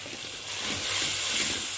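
Turmeric, coriander powder and salt frying in a pan for masoor dal, giving a continuous broad hiss that swells slightly midway, close and steady with no talk.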